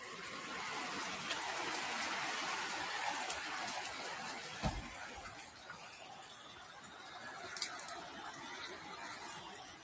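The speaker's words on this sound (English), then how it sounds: "Look at this rain" Steady rain pours down over a river in broad continuous hiss, with a few soft knocks and clicks mixed in; no one speaks during it.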